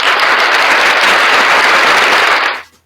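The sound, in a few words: applause for new members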